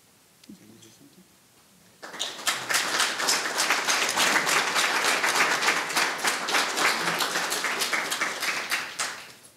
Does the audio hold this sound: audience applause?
yes